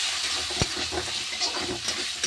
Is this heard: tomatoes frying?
yes